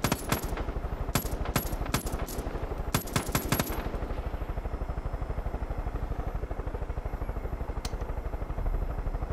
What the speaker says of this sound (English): I just love shooting bullets